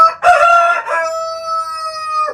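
A loud, close chicken call, rooster-like, a harsh start trailing into a long sustained tonal note, with no talking.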